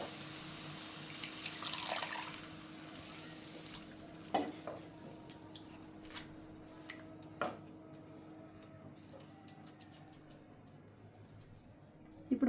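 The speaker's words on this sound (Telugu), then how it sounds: "ఇప్పుడు వాటర్ వేసుకుందాం." Water added to a simmering egg and anchovy curry, a brief splashing pour followed by intermittent clinks and scrapes of a spoon against the pan, fairly quiet and close.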